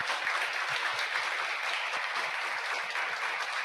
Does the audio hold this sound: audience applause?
yes